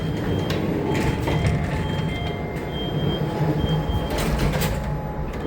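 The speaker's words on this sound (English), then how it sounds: "Doors are closing." Lift doors sliding shut in a residential block on Beach Road, a rumbling mechanical drone with short clunks and a faint tonal whine, loud and close, with no voices.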